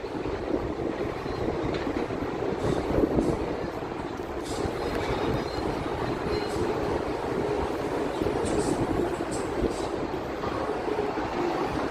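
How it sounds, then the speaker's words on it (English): A long Union Pacific freight train rolls past on a clear day in San Antonio, Texas, with a continuous rumble and wheel clatter. Faint squeals are heard now and then, and the sound stays steady throughout with no talk. "Oh my goodness, this train is so cool."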